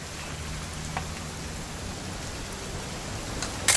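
Steady video game rain hisses in a continuous broadband wash, with faint scattered drops and no voices.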